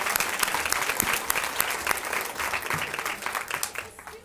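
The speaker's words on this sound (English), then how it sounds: "Round of applause for Grant Constitutional National Champs." Steady audience applause at a school board of education meeting, many hands clapping, dense and even, tapering slightly toward the end.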